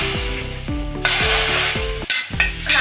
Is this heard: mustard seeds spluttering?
yes